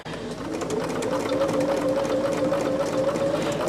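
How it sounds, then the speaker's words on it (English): A sewing machine stitching quilt fabric pieces together runs in a steady, close, continuous mechanical whir with a fast even rhythm from start to finish, no talking over it. "I am going to just go on and start sewing this set of pieces together."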